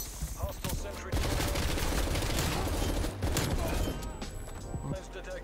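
A sentry gun turret in a Call of Duty game fires in a rapid, steady stream of shots that runs close and loud almost the whole time. Voices talk over the firing.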